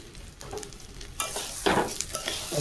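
Rice fries in ghee for khichuri, a soft sizzle that jumps to a loud hiss as the grains are stirred, with scraping bursts of the spoon in the pan, close up and without speech.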